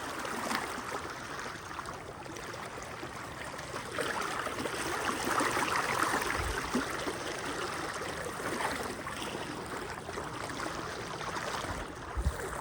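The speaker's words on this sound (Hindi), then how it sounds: "उस जगह पे बहुत ही तेज़ पानी है" Continuous rushing flood water, a broad steady roar of a fast current heard from nearby at Taunsa, Pakistan, with faint wind and no voices.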